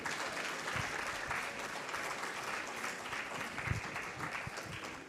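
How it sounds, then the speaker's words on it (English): Full, continuous applause at Kampala Impact Day honours the children of Imani Academy, a dense even patter of many hands heard from a distance throughout, with a few louder nearby claps standing out. "A bigger round of applause to appreciate Imani Academy"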